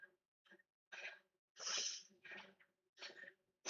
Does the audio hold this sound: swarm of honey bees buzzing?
no